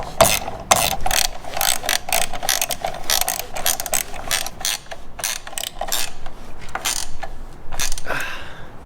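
Ratchet tightening brackets for a Trektop Ultra top on a Jeep Wrangler JLU Rubicon, close and loud, giving rapid clicking bursts in quick back-and-forth strokes with brief pauses between.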